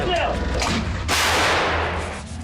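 A single heavy artillery blast from a Krab 155 mm self-propelled howitzer booms out midway, its broadband roar slowly decaying into a low rumble.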